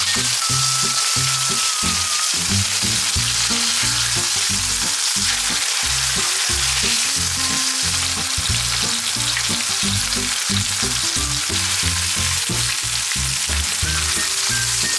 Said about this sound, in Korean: 식용유 3바퀴 두르고 양념을 잘 털어서 팬에 올려요